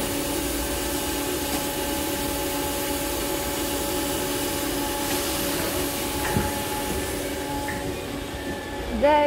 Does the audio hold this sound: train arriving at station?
yes